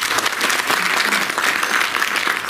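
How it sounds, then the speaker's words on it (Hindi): Steady, dense applause from a seated audience at a poetry recital held in a Delhi hospital, continuous and fairly loud throughout with no voices on top. "ताली बजाओ यहाँ।"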